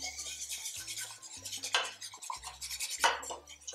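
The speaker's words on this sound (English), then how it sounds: "So you want to put in the cornmeal gradually and constantly stir." Cornmeal being stirred into clam and linguiça liquid in a pot, with scraping, rasping strokes of a utensil against the pot in an uneven rhythm and a few sharper knocks, close and fairly quiet.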